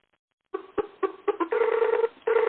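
A telephone being dialled, a quick series of bright electronic tone beeps, some short and separate, others held longer, clear and close with no voices over them.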